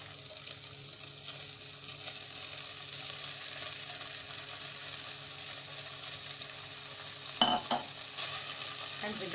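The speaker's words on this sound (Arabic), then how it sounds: "هنزل بقى كده بالكرات اهو، واقلبه برده تقليتين" Meat and leeks stir-fried in a pan as samosa and spring roll filling, a continuous close sizzle with a short burst of stirring scrapes near the end, no voices.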